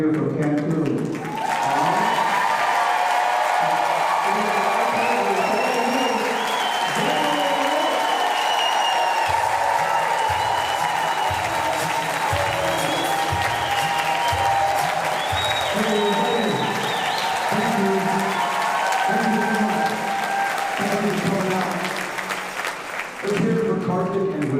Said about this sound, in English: give my man Beto an applause that Crenshaw can hear from Cancun